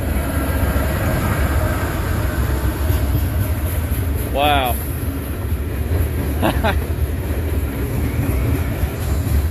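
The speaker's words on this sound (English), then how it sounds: "That's the exact same train." A freight train with tanker cars rolls past in a continuous loud rumble of wheels and rail noise throughout, with a short exclaimed voice and a brief high squeal over it.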